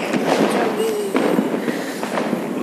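Firecrackers and fireworks bursting across a city during Diwali night celebrations, a dense crackle of scattered pops and bangs, some near and some distant, with a faint whistle around the middle.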